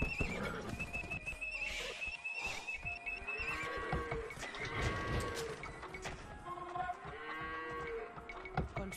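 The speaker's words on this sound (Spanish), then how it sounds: "Como veis, yo ya no paro de sacar caballos." Horse whinnies and neighs from Age of Empires 2 as cavalry units are trained, several overlapping calls with clopping hooves and other farm-animal game sounds, steady and fairly loud with no speech.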